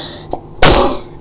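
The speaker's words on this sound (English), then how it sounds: "I need to sneeze." A single sharp, loud sneeze bursts out about halfway through a short stretch of near-quiet, with a faint breathy catch just before it.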